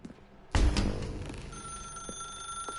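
In The Stanley Parable, a telephone begins ringing after a sudden loud thump, its bright electronic ring sustained and steady through the rest of the moment, with a few soft knocks underneath.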